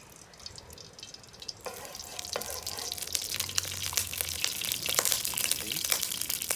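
Cooking oil poured into a preheated pan for pork sinigang starts a soft hiss that grows into a steady, crackling sizzle, close and moderately quiet.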